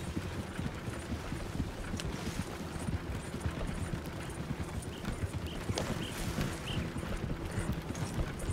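Horse hooves in Red Dead Redemption beat in a quick, uneven patter at moderate distance, mixed with wind and outdoor ambience, fairly quiet overall, with no voices.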